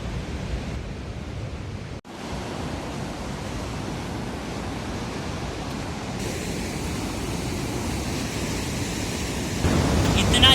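Fast-flowing river rushing below a mountain road on the route to Kedarnath, a steady loud roar of water that fills the clip, with a brief dip partway through.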